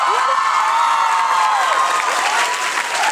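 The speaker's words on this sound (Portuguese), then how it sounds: "Uma salva de palmas, senhoras e senhores, para a Lúcia." A crowd at a school stage performance of Peter Pan applauds and cheers for the winner of a dance contest, with dense, steady clapping and a few whoops running through the whole stretch.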